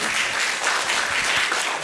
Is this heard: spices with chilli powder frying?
no